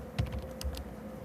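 Several quick, light keystrokes tap on a computer keyboard at close range during 3D modeling work, an irregular short burst of clicks over quiet room tone.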